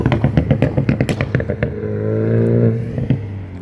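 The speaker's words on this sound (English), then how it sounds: "those cars sound like they're just constantly farting themselves" Video game car engines putter in a rapid, flatulent-sounding pulse, then settle into a steadier drone with no talk over them.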